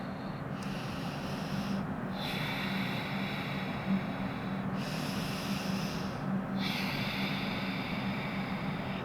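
Heavy rhythmic breathing during yoga holds, slow deep inhales and exhales that repeat every couple of seconds, close and fairly loud over a steady background hiss.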